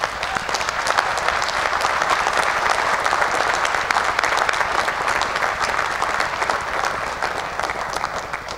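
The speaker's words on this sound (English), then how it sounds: "Applaud them as you stand here ready to graduate." A graduation audience for a medical school class applauds, sustained crisp clapping from a large crowd holding steady and fairly loud, with no speech heard.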